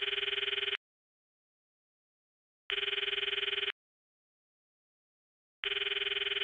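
Telephone ringing on an outgoing call: three evenly spaced electronic ring bursts, each just under a second long, separated by silent gaps, clear and alone.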